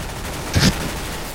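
Gunfire in Counter-Strike: Global Offensive, Arms Race mode: one short, loud burst of rapid shots breaks through the steady game background, then fades.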